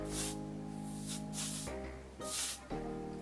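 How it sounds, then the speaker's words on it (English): Oribe Thick Dry Finishing Spray is misted onto sections of curled hair in several short, soft aerosol bursts, with a steady tonal hum underneath. "And I'm gonna take sections, give them a good little spray."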